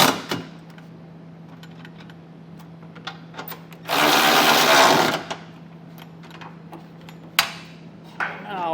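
A power tool spins for about a second in one loud, close burst with a 19mm socket, snugging down the bolts of a trailer hitch receiver on a 2024 Mazda CX-5, set between quiet clicks and handling noise.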